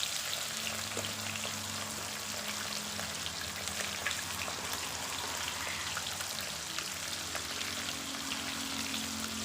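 Steady, dense sizzling of climbing perch (koi fish) frying in hot oil, a continuous crackling hiss with no voices.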